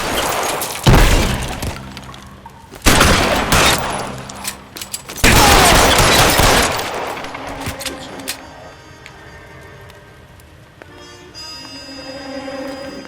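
Gunfire in the video game L.A. Noire: three loud bursts of shots with crashing, shattering debris, followed by quieter scattered impacts and lingering tonal game sound.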